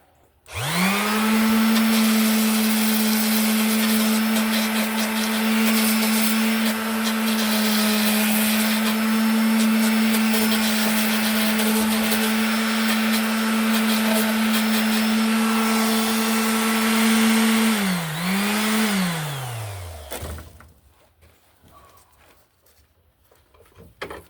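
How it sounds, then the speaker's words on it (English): A power sander runs steadily on the handle of a traditional wooden bow, a loud continuous motor whine holding pitch for about eighteen seconds before dipping and winding down to silence. "get rid of any tool marks with the sander"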